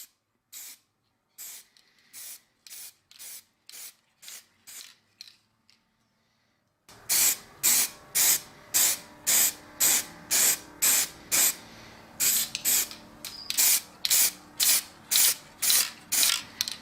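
Short bursts of spray paint coat a restored axe in matte black and then clear coat, with faint can clicks and rattles between them. Quieter bursts come first, then a louder, steady run of many evenly spaced hisses.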